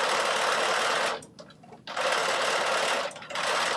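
A sewing machine stitches the front and back garment pieces together, running in loud, close, rapid bursts with two brief pauses between them.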